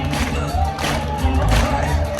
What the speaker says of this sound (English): All right, just give me a clap.